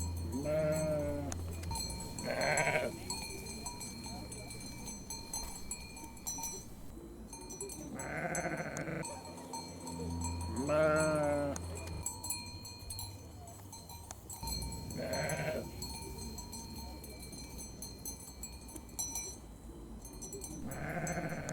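A sheep and a goat bleat several times in short, wavering calls spread across a quiet outdoor scene, faint and fairly distant, with pauses between calls.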